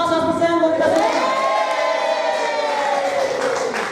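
A roomful of junior high school teachers at an in-house training session bursts into loud, sustained applause mixed with cheering and shouts, the crowd noise steady for several seconds before easing slightly.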